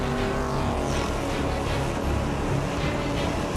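An Audi race car at the Le Mans 24 Hours gives a dense, steady engine roar mixed with broad track noise, loud and continuous throughout the short stretch, with no clear voices.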